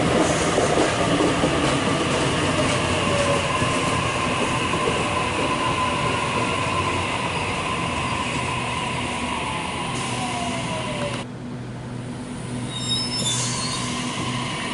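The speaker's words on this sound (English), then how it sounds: "A38 is now departing platform number one, City Circle via second service." A Sydney Trains passenger service pulls out from platform one at Dulwich Hill, its steady rumble and rolling wheel noise close and loud, with rising motor tones and a drop in sound near the end.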